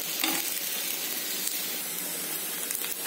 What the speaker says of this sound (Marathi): भेंडी आपण नुसती फ्राय करायची आहे, वरती झाकण ठेवायचं आहे।